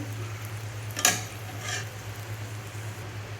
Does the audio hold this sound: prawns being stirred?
yes